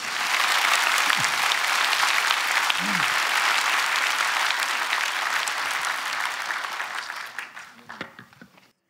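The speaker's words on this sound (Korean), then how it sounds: "박수 치려면 확실히 치시죠." A church congregation at a Korean dedication and ordination service breaks into sustained, dense applause that holds steady for several seconds and then fades out, with a few faint voices at the end.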